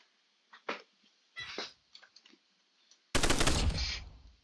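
A minigun in a video game shooter fires: scattered short game sounds lead into a dense, loud continuous burst of rapid fire over the last second and a half.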